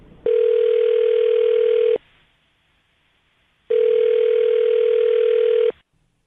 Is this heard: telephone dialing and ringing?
yes